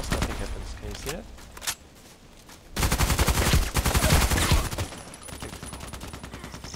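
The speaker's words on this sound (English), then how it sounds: "So if I shoot through the house, nothing happens." SCAR-L rifle fire in a video game, rapid bursts rattling through a house, sharp shots early then a dense loud volley in the middle, with talk over parts.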